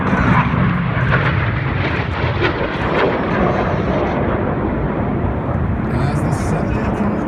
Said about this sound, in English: 7 aircraft pulling to the vertical, about to make a beautiful palm tree.